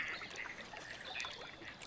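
Gadwall ducks at Walthamstow Wetlands, with faint, scattered quacks and calls over a steady outdoor wetland hiss, birds sounding some distance away.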